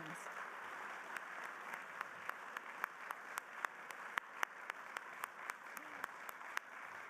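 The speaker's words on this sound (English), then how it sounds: "give all of our North Harbour Hall of Fame laureates a big round of applause and congratulations" Faint, distant applause from a crowd at a business hall of fame luncheon, with sharper individual claps standing out in a steady rhythm.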